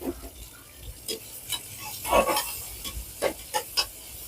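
Tomatoes, chilies, coriander and masala going into a frying pan, with a soft sizzle under close, irregular scraping and stirring clatter, several sharper knocks of a spoon against the pan, and no voices.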